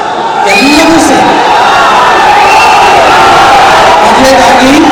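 A large crowd at a Kannada film event roars with loud, sustained cheering, whoops and shouts. Voices stay close and overlapping throughout the continuous din.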